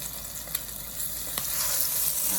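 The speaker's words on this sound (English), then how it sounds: "You're gonna hear the sizzle. And that's the kind of sizzle you wanna hear." Shrimp and crab cakes sizzle steadily in a hot pan with olive oil, a constant crackling hiss with a couple of faint clicks, no voices.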